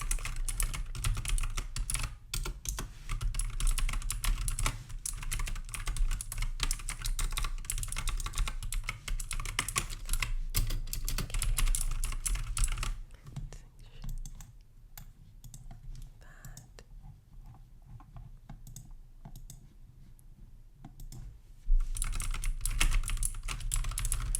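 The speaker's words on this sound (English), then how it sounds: "So just kind of type in your responses real quick." Steady keyboard typing on a computer keyboard, close and continuous for most of the clip, thinning to sparse soft clicks in a quieter stretch before picking up again near the end.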